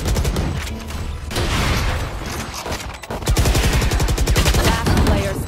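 Rapid gunfire from the tactical shooter Valorant, a dense run of sharp automatic shots in fast rhythm, loud and close, with a short break before the volley resumes even faster.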